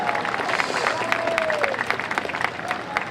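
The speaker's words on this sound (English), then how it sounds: "Please give him a big round of applause." Crowds lining a downtown San Jose Veterans Day parade applaud a World War II Navy veteran, a spread of scattered clapping with some cheering, rather distant, and a faint whistle-like tone sliding through the middle.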